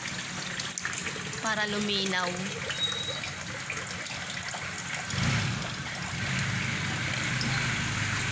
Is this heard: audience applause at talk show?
no